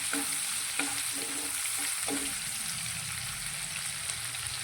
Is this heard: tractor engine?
no